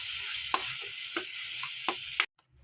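Ground spice masala for dhaba-style green peas masala cooking on a low flame in a pan, a steady hiss of sizzling broken by a few sharp scrapes of stirring, ending abruptly after about two seconds.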